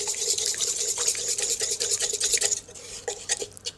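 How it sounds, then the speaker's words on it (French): A small whisk stirs and smooths a melted white chocolate mixture in a bowl, producing quick rhythmic scraping and light clinking strokes, steady and close, then softer taps toward the end. "avec un petit fouet, on va lisser la préparation"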